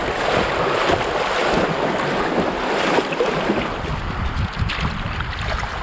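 A Sea Eagle Explorer 380X inflatable kayak running through small rollers on the upper James River in Virginia: continuous rushing, splashing water with heavy wind buffeting the microphone, steady and close.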